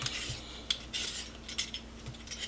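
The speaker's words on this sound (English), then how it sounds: "I'm just gonna peel my potatoes onto the plastic wrap" Potatoes being peeled onto plastic wrap in a home kitchen, a series of short scraping strokes from the peeler with soft rustles and light clicks between them, close and fairly quiet, with no talk.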